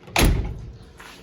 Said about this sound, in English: Doors shut good.